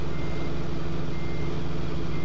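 A truck in a farming video game backs up with a steady, continuous reversing beep under a loud engine drone, with no talking.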